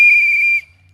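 A whistle blown once, a piercing steady shrill tone held for over half a second before cutting off abruptly, loud and close with nothing else around it.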